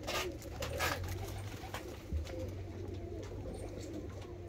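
Large, heavy-bodied fancy pigeons coo in a loft on a snowy day, a steady low murmur of overlapping calls that runs through the whole stretch with faint flutters and shuffles.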